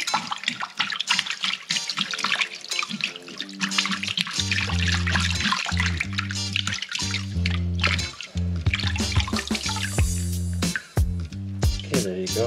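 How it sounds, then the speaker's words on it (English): An American shad being descaled with a spoon in a sink filled with water, giving steady splashing and scraping under continuous background music, no talk. "First thing I'm going to do is descale the fish. I'm just going to use a spoon, and I filled my sink with water"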